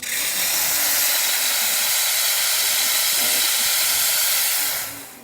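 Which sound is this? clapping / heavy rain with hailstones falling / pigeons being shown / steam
steam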